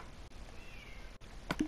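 Cats in the Minecraft video game, PlayStation 4 edition, let out a short meow near the end, preceded by quiet ambient game sound and soft background noise.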